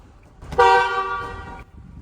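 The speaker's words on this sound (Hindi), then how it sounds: "ट्रम्पेट हॉर्न है" A single Nissan Magnite trumpet horn sounds one loud, sustained, brassy honk lasting about a second, with quieter background noise before and after.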